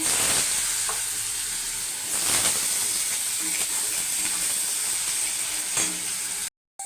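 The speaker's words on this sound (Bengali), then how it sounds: "তেল গরম হয়ে গেছে, আলুটা ছেড়ে দেবো।" Potatoes frying in hot oil in a kadai, a steady close sizzle and hiss running throughout, with a few soft stirring clicks, before the sound cuts off abruptly near the end.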